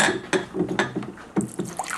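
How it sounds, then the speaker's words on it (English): Water poured from a cup into a pot of beans for red lentil soup, a close series of splashing, gurgling pours with short gaps between them and no talking. "now we're going to start adding water to the beans"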